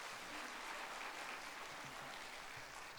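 A church congregation applauds together in dense, sustained clapping that sounds fairly distant and steady throughout.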